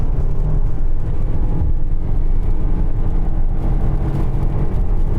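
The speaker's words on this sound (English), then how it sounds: "That noise is the engine just going rah" Lexus LM four-cylinder engine droning steadily at full throttle through a CVT automatic, a loud, continuous low rumble of road and engine noise from inside the cabin with no gear changes.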